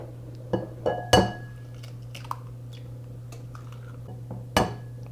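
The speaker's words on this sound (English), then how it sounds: "We're going to take a bowl here, and we're going to combine 2 eggs." Eggs clinking against a glass bowl as two are cracked and combined for chicken nugget batter, a few sharp glassy taps and knocks spaced apart over a steady low hum, close and fairly quiet.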